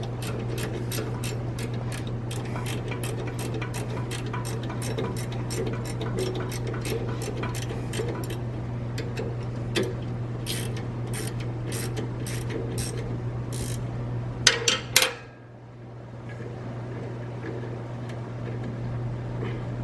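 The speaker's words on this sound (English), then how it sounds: "Just kind of gotta force your spanner on there." A spanner ratchets repeatedly against sap-covered nuts on chipper shredder cutting blades, rapid metallic clicks over a steady low hum nearby, finishing with a few sharp clanks before the hum drops away.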